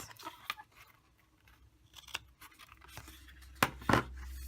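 Scissors snipping paper card stock to miter the corners of a half card holder craft project, a few sharp crisp cuts close by with quiet handling sounds between them.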